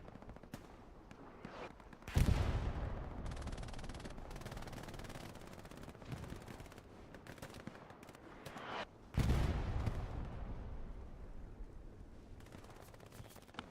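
Gunfire and explosions in a Hell Let Loose night match at Kursk during an Axis bombing run: steady dense rattle of weapons with two heavy booming impacts, a bomb or artillery blast near the start and another midway, loud and close.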